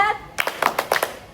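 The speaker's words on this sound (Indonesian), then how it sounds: "Jadi kalau misalnya kakak-kakak bilang tepuk semangat, semangat." Children doing the tepuk semangat clap cheer, a quick run of about six sharp hand claps in rhythm, close by, preceded by a brief voice.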